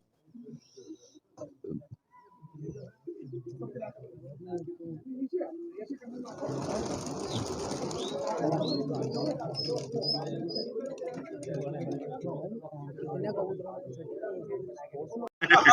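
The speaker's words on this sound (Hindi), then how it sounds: "तो देखें माशाल्लाह किस तरह से यहाँ पर उतरते हैं हमारे कबूतर" Soft coos and rustling as trained pigeons land, with a burst of fluttering wings midway and someone talking in Hindi over much of it.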